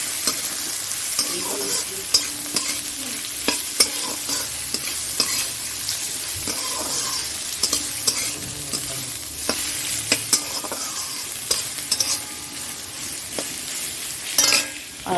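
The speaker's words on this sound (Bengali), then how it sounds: "আর এই গাজরটা দিয়ে দিচ্ছি। গাজরটা একটু ভেজে নেব।" Carrots frying in white oil in a wok, a continuous close sizzle punctuated by frequent sharp spatula scrapes and stirring knocks, growing busier toward the end.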